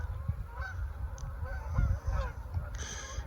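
Upset geese and mallards call across a river, with repeated honks and quacks at moderate distance under a low outdoor rumble.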